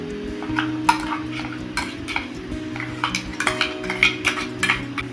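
Carrot puree is stirred into flour in a bowl, repeated close spoon scrapes and light clinks of metal on the bowl in an uneven rhythm over a faint steady background hum.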